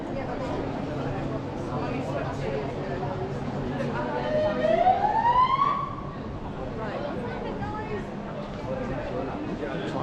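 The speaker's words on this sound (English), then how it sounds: "Police car coming up here." Police car siren rising and sweeping past on a street in Palma, clearly audible for a couple of seconds over steady traffic and crowd noise, with people talking nearby.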